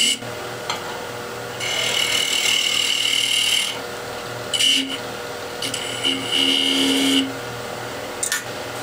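A skew chisel cuts a wooden chess piece spinning on a lathe, producing loud, steady scraping hiss in bursts of a few seconds separated by brief pauses as the tool is lifted and reapplied.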